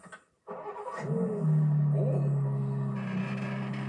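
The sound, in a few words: car engine starting with metallic sound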